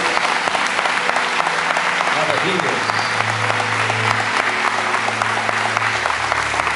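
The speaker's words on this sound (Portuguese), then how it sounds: "então aplauda Jesus mais uma vez" A church congregation applauds during a worship service, loud close clapping from many people, with a voice calling out over it and a sustained low keyboard-like tone entering partway through.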